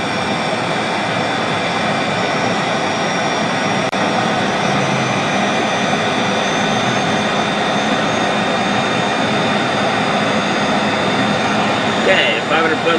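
Lear Jet engines roar steadily through a high-speed low pass over the runway, a loud, continuous broadband rush with no break across the whole stretch.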